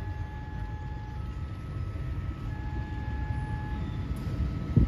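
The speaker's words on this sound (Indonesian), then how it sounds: "Ini ada kereta api Joglo Semarkerto dari Solo masuk Lempuyangan" A passenger train, the Joglo Semarkerto hauled by a CC 201 locomotive, rumbles steadily into Lempuyangan station, a low continuous roar with faint tonal whines above it, ending in a short louder clunk.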